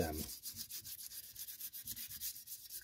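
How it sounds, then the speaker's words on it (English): Motorcycle fork stanchion being hand sanded with 400 grit sandpaper, soft rhythmic back-and-forth rubbing strokes, quiet and close, about a dozen even passes. "some 400 grit, and we'll get this rubbed down a wee bit"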